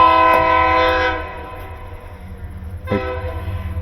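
A train passes close by while a dryer is being repaired, its loud horn blaring with rich harmonic tones for about a second, then a low rumble of railcars continues before another horn blast.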